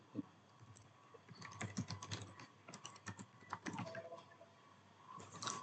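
Typing on a computer keyboard while entering a group name into a server configuration form, with irregular bursts of quiet, close key clicks and short pauses between runs of keystrokes, no voices.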